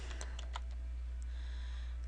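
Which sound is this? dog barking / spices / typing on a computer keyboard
typing on a computer keyboard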